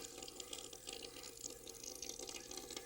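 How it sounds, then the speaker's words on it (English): Tap water runs steadily into a kitchen sink while fish are scaled beneath it, a continuous splashing hiss with small irregular drips and spatters, fairly faint and with no talk. "I think it's easier to do them under running water, so then they don't get all over you and all over the kitchen"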